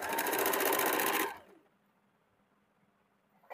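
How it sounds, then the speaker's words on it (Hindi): A sewing machine runs steadily, stitching a border onto a kurti made from a saree, with a fast continuous whir for over a second before stopping abruptly, followed by near silence. "उसी दाग पे हम लोगों को पूरे में सिलाई चला देना है"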